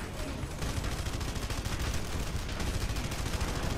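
Rapid, dense gunfire with blasts from the Red Faction Guerrilla Re-Mars-tered video game, continuous loud volleys crackling without pause throughout, no talk over them.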